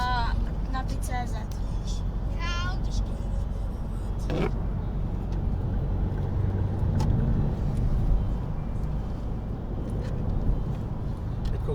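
Car interior on a drive through Prague's newly opened Blanka tunnel, with steady low road and engine rumble throughout and people talking over it.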